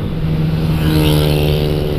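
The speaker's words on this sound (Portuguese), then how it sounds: "Quem é o louco vindo acelerando?" A vehicle accelerates past on the road, a loud steady engine roar close by that swells slightly for about two seconds.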